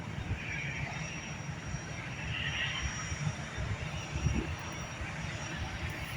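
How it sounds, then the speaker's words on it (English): A Ryanair Boeing 737 MAX 8 landing at Edinburgh Airport, a steady broad jet roar heard from a distance outdoors, with faint voices nearby. "Here are 3 easyJets right here, waiting to take off as this Ryanair 737 MAX 8 lands."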